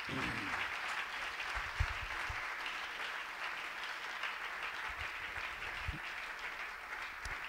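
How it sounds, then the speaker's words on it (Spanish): A church congregation applauds during a Sunday morning service, steady continuous clapping that carries through the whole stretch at moderate loudness, with a few people's voices mixed in underneath. "Le damos un aplauso al Señor en esta mañana."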